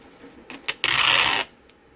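A sewing machine stitching tape down onto a paper lapbook: a couple of sharp clicks, then a close, half-second whirring run of stitching that stops abruptly.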